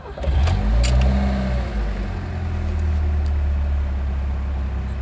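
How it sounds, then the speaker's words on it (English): A Lada Riva Estate VAZ 2104 engine cranks and catches, briefly revving before settling into a steady, loud idle close by. "Let's put the key in,"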